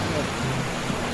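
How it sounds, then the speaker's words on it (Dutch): Cartoon shower water running, a steady hiss of spraying water heard alone for about a second. "Geniet van de douche, kleine Rocky."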